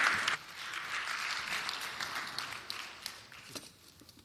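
A conference audience applauds the ten pitching startups at a MedTech event, a steady wash of clapping that fades slightly toward the end, with no speech over it.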